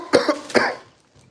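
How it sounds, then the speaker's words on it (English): A man coughs twice in quick, harsh bursts, close and fairly loud, followed by a faint, short throat rasp after a brief pause. "Got this cough, y'all."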